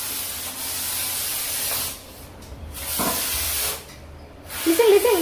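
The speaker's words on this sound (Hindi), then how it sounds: "मैं थोड़ा स्प्रे कर लेती हूँ।" An aerosol can sprays insecticide against cockroaches in a home kitchen, a steady close hiss that stops, resumes and cuts out again in several bursts.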